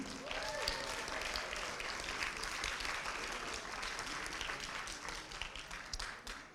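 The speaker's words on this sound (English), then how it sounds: "A round of applause for them, please." Sustained applause from a large audience at a school poetry recitation event, steady dense clapping that holds for several seconds before starting to thin out near the end.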